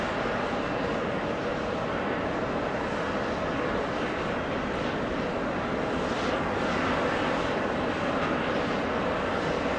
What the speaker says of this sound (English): Delta 799 from Orlando, Florida. 2 hours, 10 minutes of flight time for that A321.